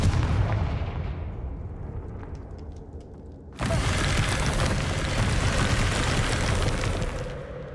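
A blasting spell explodes in Hogwarts Legacy, a sudden loud broadband boom that cuts in midway and stays as a dense roaring rumble for several seconds after a quieter stretch of background ambience.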